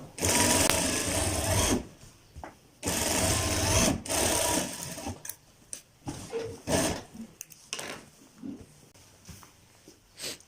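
A sewing machine stitching a kurta sleeve in loud continuous bursts, pausing between runs with short fabric-handling clicks and shuffles.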